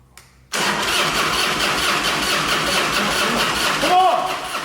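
A Harley-Davidson motorcycle engine starts with the choke on: after a brief cranking moment it catches and runs at a loud, steady idle close by.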